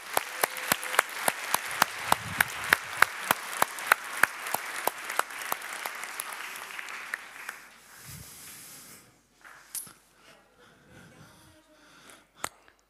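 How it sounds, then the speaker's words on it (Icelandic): Church congregation clapping for two singers, a dense burst of hand claps near and steady for several seconds before fading to scattered claps and quiet rustling. "Gefum þeim gott klapp."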